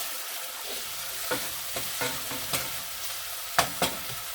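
Tomato sauce cooks in a pot for a smoked turkey okra dish, a soft sizzling bubble broken by a handful of sharp scraping or stirring knocks, two louder near the end.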